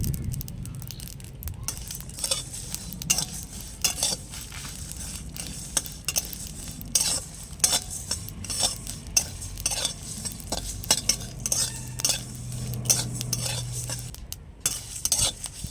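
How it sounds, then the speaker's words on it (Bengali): Whole spices dry-roasting in a kadai, stirred continuously: dense, dry crackling sizzle with steady scraping and clinking of a spoon against the pan throughout, close and fairly loud, with no talking. "কড়াইতে মশলা পড়তে না পড়তেই বন্ধুরা চচ্চর চচ্চর করে আওয়াজ হচ্ছে দেখুন"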